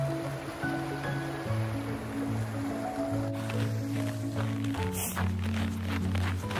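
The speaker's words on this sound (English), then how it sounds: "There's a little creek dumping into West Fork here." Small mountain creek, likely Basin Creek, spills into the West Fork in winter, a steady soft rush of flowing water beneath faint tonal hums and a brief scrape, with no talking.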